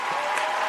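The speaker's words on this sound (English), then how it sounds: "let's start out with a round of applause for David Pinck" A studio audience gives a round of applause for a guest on a Canadian union podcast; a steady, dense wash of clapping holds at an even level from start to end.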